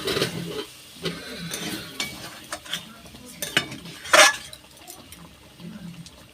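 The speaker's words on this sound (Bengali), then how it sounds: "এবার একটু খুন্তি করে নেড়ে দেবো এইভাবে।" A spatula stirs Bihari-style chicken masala with a little water added for gravy, producing irregular wet scrapes and soft clinks against the pan, close and moderately loud.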